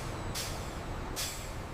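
Air brake on a truck at a cupcake factory, releasing two sharp, loud hisses about a second apart over a steady low rumble.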